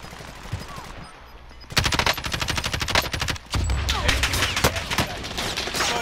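Gunfire in a first-person shooter video game: rapid automatic bursts rattle loudly and continuously for several seconds, close and dense, with a brief break mid-way before firing resumes at full intensity.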